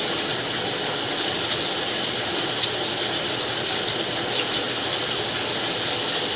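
Water rushes steadily down a household drain line through an open cleanout, a continuous, even gushing that stays loud and unbroken throughout, with no voices.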